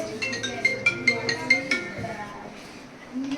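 A mobile phone ringtone plays as a quick series of bright, repeating electronic pings for a few seconds, fairly close and moderately loud, with faint background noise.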